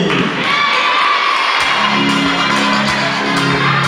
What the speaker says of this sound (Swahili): Makofi kwa Cosmas. Jamani, makofi